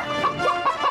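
Rhythmic chicken clucking plays as a sound effect in a Burger King television advert, four quick bright clucks in an even pattern, close and clear.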